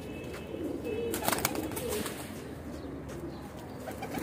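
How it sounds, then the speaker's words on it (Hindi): High-flying pigeons cooing softly and repeatedly, with a few faint chirps mixed into a steady, quiet background. "कबूतर वेखो माशाल्लाह"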